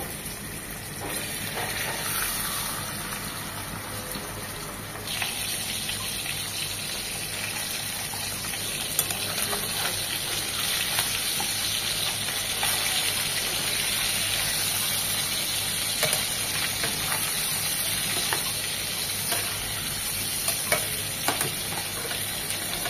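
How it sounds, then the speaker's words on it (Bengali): Tilapia fish frying lightly in oil in a pan: a steady, close sizzle that runs the whole time, with small crackles and pops and a brief louder surge about five seconds in. "একদম হালকা করে ভাজবো, 1 মিনিট 2 মিনিট।"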